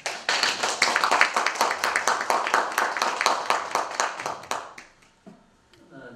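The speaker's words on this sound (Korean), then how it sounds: "박수로 환영해 주시고" An audience at an indoor humanities lecture claps in welcome, a dense, even burst of close hand claps lasting several seconds before tapering off into near silence.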